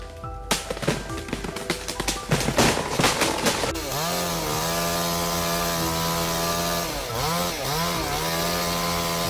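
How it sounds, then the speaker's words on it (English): Steel chainsaw cutting through a large oak log outdoors, loud and close: choppy revving bursts at first, then a sustained high-pitched engine whine as the chain bites steadily through the wood, with brief dips in pitch under load. "He was impressed to see the steel chainsaw easily handle a large oak log."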